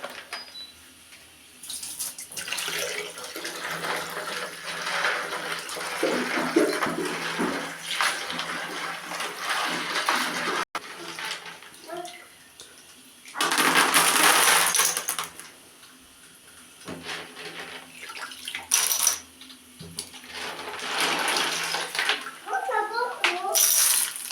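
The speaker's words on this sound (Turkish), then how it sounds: "Bugün sizlerle birlikte balığımın suyunu değiştirmek istedim." Water changed in a home fish tank, running and splashing water from a tap in bursts that stop and start, close and loud, with a voice heard talking in between.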